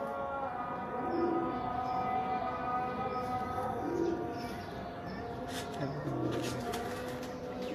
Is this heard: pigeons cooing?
yes